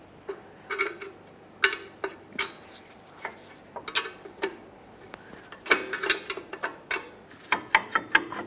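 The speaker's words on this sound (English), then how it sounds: "gently start turning this in one direction or the other, trying to get this brake rotor to loosen up" Rear brake adjuster cog on a Jeep Wrangler being turned with a tool during a brake job: a string of small metallic ratcheting clicks and ticks, close and irregular, with no talk.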